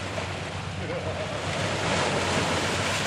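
Waves wash and churn continuously nearby, mixed with heavy wind buffeting the microphone.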